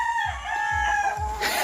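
A rooster at a Philippine gamefowl breeding farm crows in long drawn-out calls, with low clucking from other chickens underneath. It sounds close and fairly loud, and no one speaks.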